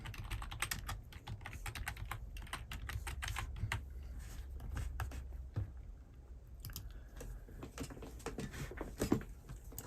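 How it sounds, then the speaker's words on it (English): Fingers tap rapidly on a computer keyboard in a dense, uneven patter of soft clicks, close and fairly quiet, with a short pause partway through before the keystrokes resume. "So let me type that in."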